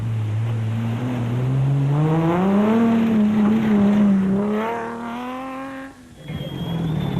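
A Nissan Hardbody rally truck races at a Toyota 1000 event, its loud engine note climbing and holding as it passes close, then dropping away before another engine rises.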